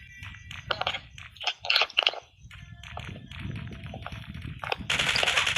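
Rapid bursts of M4 rifle fire in the survival game Last Day Rules Survival, crackling in short clusters over a busy in-game background, with a sustained louder burst near the end.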